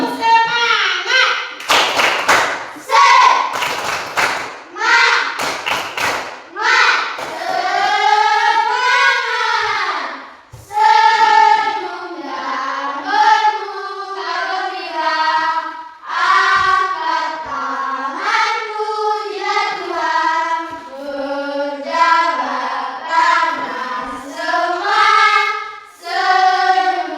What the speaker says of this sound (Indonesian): Ice breaking kita tepuk semangat.